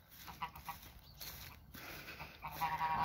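Geese honking in a short outdoor flurry, a few scattered calls at first and then a louder burst of overlapping honks near the end.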